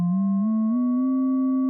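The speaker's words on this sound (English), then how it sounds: "Playing a note one octave down, the fundamental shifts, but the sidebands do not." Single Omnisphere FM synthesizer note played an octave lower, a clean, steady electronic tone with a slight upward pitch glide at the start, heard alone with no voice.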